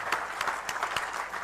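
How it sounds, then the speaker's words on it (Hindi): Audience at a journalism festival in Indore applauds a talk on AI and education, fairly faint, brief clapping heard as a few distinct claps over a soft crowd patter. "तालियां तो बनती।"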